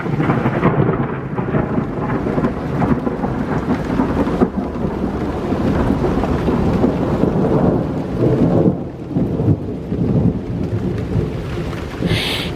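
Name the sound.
thunderstorm with heavy rain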